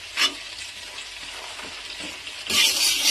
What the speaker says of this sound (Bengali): মটরশুঁটি আমি এখানে দিয়ে দিচ্ছি